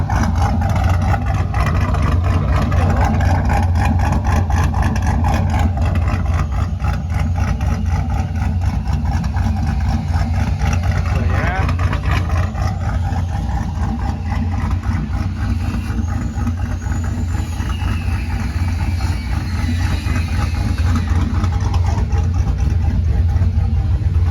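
A pickup truck idles with a newly fitted exhaust with 3 1/2 inch tips, a loud, close, steady low rumble with a fast pulsing throb that holds evenly from start to finish.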